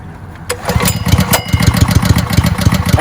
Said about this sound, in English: So the engine's never been started. I might have to give it a couple pulls.